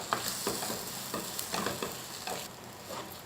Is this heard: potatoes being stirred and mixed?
yes